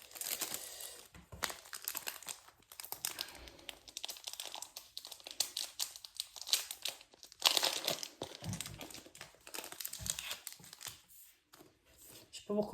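Elite Trainer Box for a Pokémon card set being unwrapped by hand, plastic wrapper crinkling and tearing in dense, busy bursts close up for most of the stretch, with brief quieter gaps.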